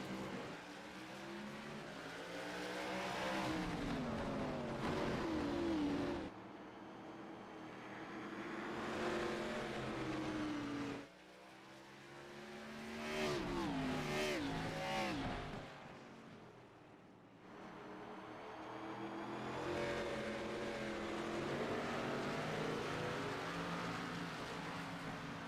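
ARCA race cars at Martinsville roar loudly at racing speed, engine noise swelling and fading in repeated waves as the cars pass, with brief lulls between passes.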